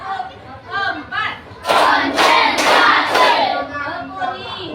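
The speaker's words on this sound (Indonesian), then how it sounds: "Tepuk 1. Tepuk 2. Tepuk 3. Tepuk 4." Schoolchildren in a classroom clap in a counted pattern, a run of about four sharp, loud hand-clap bursts in quick succession, with young voices and a teacher's speech around them.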